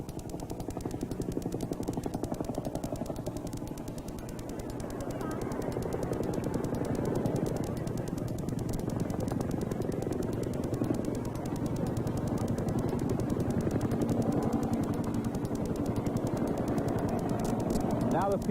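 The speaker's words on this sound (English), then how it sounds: "The smaller helicopter, which appears to be the same one the Pope got in Laguna Seca," The Pope's helicopter flies in at Laguna Seca, a steady rotor chop and engine drone that grows gradually louder across the whole stretch, with voices talking underneath.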